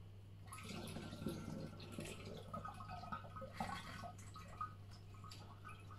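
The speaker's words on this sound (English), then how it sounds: "Pour in your cold tea." Cold tea poured into a mix of apple juice and syrup, a steady liquid trickle and splash running for several seconds over a constant low mains hum, close and fairly quiet.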